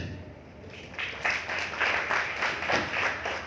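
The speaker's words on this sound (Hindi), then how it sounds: "मैं चाहूँगा सारे लोग एक बार ज़ोरदार तालियां बजाएं सर के लिए" An audience claps steadily after an inspirational talk at a university, a sustained wash of applause from a crowd that builds after a second and holds at an even level.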